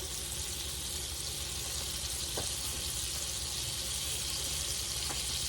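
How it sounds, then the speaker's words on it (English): Half a stick of butter melting with shrimp in a hot pan gives a steady, close frying sizzle that holds level throughout, with a couple of faint clicks and no voices. "Get my butter melted a little bit here"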